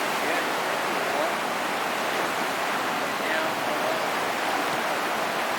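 Floodwater roars through a swollen little creek carrying debris, a steady loud broadband rush with no break from start to finish.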